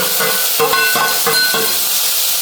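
Onions and chillies fry in hot oil in a pan for a Jaffna-style chicken curry, giving a steady close sizzle broken by several stirring scrapes, with no talking.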